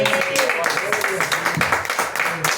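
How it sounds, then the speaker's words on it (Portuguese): A church congregation claps steadily throughout, a dense, continuous patter of applause with voices and singing tones mixed underneath. "As palmas para nós."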